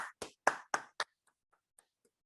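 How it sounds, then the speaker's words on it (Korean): Five sharp, separate claps at a church worship seminar, close and fairly loud for the first second, then a few faint scattered taps fading into quiet. "하나님께 영광의 박수를 올려드리십시다. 박수를 치죠"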